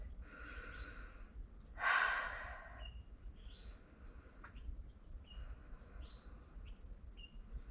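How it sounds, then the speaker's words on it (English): A single deep cleansing breath during a yoga session, an audible sighing exhale near the start, followed by quiet room tone with faint bird chirps in the background. "Cleansing breath"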